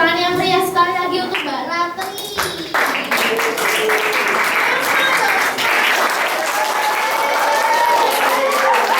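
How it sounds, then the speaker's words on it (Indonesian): Applause from a school audience at a senior high school Indonesian-language practical exam in Purworejo, a dense steady clatter of hands lasting throughout, with children's voices and other chatter layered over it, especially at the start. "beri tepuk tangan yang meriah sekali lagi untuk Mbak Ratri"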